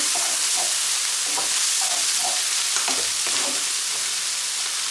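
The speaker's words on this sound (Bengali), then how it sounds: "আগে একটু চিংড়িটাকে ভেজে নেব 2-3 মিনিট চিচিঙ্গা দেওয়ার আগে" Small shrimp frying in a pan, giving a dense continuous sizzle with soft rhythmic stirring scrapes beneath it, close and fairly loud.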